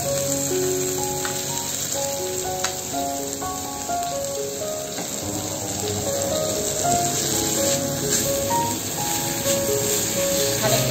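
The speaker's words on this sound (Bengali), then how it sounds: "খানিকক্ষণ আর কেবল ভাজবো" Broccoli and cabbage fry in a pan with onion, garlic and ginger, giving a steady, fairly loud sizzle that continues throughout, with a few faint clinks.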